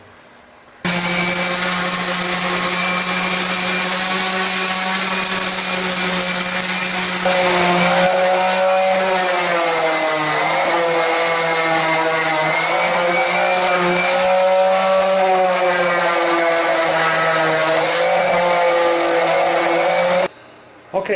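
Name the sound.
sanding a log bed made of black spruce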